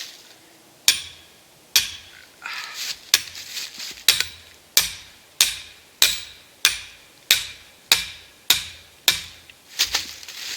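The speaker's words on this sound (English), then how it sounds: "set our stake, hammer it into the swivel" Steel trap stake hammered into the ground at a dog-proof trap set on a ridge: about fourteen sharp, ringing metallic blows at a steady, slightly quickening rhythm, close and loud, with no talking.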